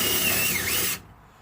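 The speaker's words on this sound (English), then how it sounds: "So we're going to ream it out a little bit." A power drill whirs briefly as it reams out a pole fitting for a hose on a homemade water-fed window-cleaning pole, a close, pitch-bending whine that cuts off abruptly.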